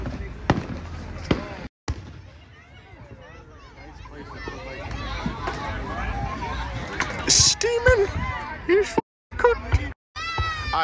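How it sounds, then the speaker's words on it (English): Summer fireworks go off outdoors in a string of sharp pops and booming bursts, with a crowd chattering and people talking close by throughout. "we watching fireworks"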